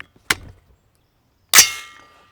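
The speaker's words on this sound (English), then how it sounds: "So we're gonna shoot our first group here at like 20 yards" Two sharp gunshots from a rifle fitted with an inexpensive scope, fired from a bench at a target about 20 yards away, spaced a little over a second apart, the second louder with a longer ringing tail.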